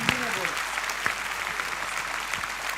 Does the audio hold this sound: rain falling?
no